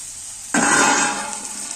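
Potato and eggplant pieces tipped into a hot pan burst into a sudden loud sizzle that settles into a steady frying hiss.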